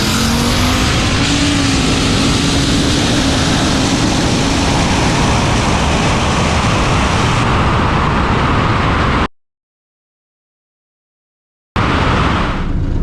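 Drag race cars accelerating down a quarter-mile strip, a loud, harsh engine roar with a rising pitch that runs for about nine seconds, cuts to silence, then returns briefly.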